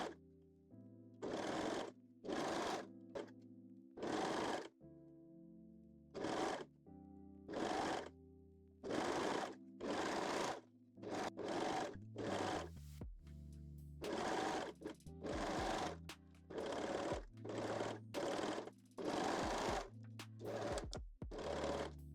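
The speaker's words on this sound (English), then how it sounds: "sew the crotch and side seams using a serger or zigzag stitch" Serger stitching the crotch and side seams of a bikini bottom, heard as repeated bursts of machine whirring alone, each a second or two long with short pauses between.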